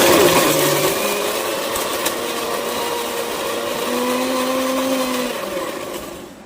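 A kitchen blender grinds cooled, boiled spices into a smooth paste for a vegetarian matar paneer, whirring steadily and loudly throughout with a dense motor drone that shifts pitch slightly as the mixture blends, then winds down at the end.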